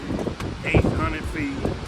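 Wind gusts over choppy Lake Erie during parasailing at Cedar Point, buffeting the microphone with loud, uneven rumbling and hiss while people talk and shout over it.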